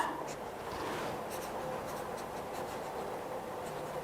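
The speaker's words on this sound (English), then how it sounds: "either with a label, a sticky label or a pen, I can write on here" A pen scratching across a label on a plastic seed-starting bag, a quiet, continuous scratchy rubbing with short strokes, close and faint, without speech.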